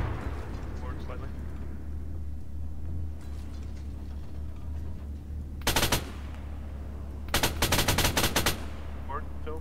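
Bursts of automatic gunfire crackle during an Arma 3 tank battle over a constant low engine rumble, a short volley followed a moment later by a longer, louder burst, with players talking over it.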